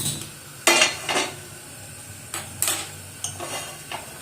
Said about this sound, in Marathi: आता आपण गॅस ऑन करूया आणि पॅन गरम करायला ठेवूया.